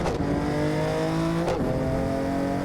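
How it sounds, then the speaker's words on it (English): A race car engine drones loudly, then blips sharply as it downshifts and settles back into a strained, high-revving note. "Why did that downshift sound amazing?"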